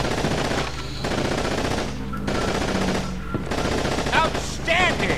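A machine gun fires in sustained bursts in Call of Duty 2: Big Red One on PS2. The gunfire is loud and close, broken by short pauses, with battlefield noise filling the gaps.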